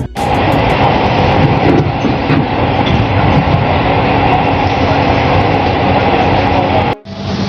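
An LRT Jabodebek train rides into Cawang station in Jakarta. A steady, loud rumble of rails and wheels goes on with a brief dropout near the end.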